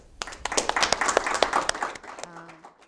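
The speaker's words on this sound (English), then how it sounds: "Please join me in a round of applause for our speakers." Audience applause for the speakers at the close of a policy discussion event, a burst of clapping over about two seconds that fades into quiet room tone.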